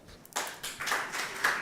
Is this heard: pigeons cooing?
no